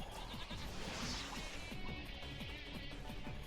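Sheep bleating in the video game Shin Megami Tensei: Digital Devil Saga 2, a rapid series of wavering bleats over dense game noise, loud and continuous for a few seconds.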